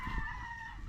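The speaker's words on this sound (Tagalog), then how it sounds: "Ayan o, manok." A chicken clucks close by in a seaside outdoor setting, brief and steady against background noise.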